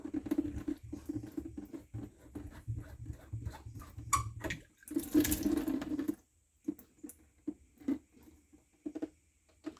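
Water splashes from an RV sink faucet with a cleared screen, a close hissing rush in a short strong burst amid softer intermittent trickles and clatter.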